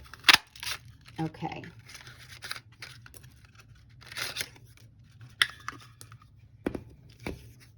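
Scissors snip through paper to cut out flowers and leaves for a card, giving sharp, intermittent cuts and light crinkling, close by, interspersed with quiet talking.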